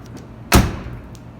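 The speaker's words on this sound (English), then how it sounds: "doors closing pretty good" A 1985 Buick LeSabre car door swings shut with a single solid thump, loud and close, followed by a brief fading rumble in an otherwise quiet garage.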